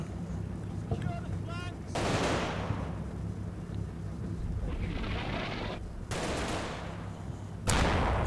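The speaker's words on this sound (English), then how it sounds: "I think that's one of my own artillery pieces, trying to get a spotting round onto the left tank." Artillery and gunfire from the World War II strategy game Combat Mission during Operation Bluecoat: several heavy booming bursts and rumbling impacts break through a steady background din, with a voice talking at points.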